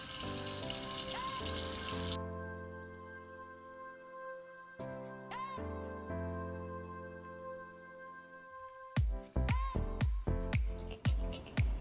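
Hot water gushes from a tap into a pot filled about halfway while cooking Jamaican saltfish fritters, a bright rushing stream loudest at the start and again in short splashy bursts near the end, with steady music underneath.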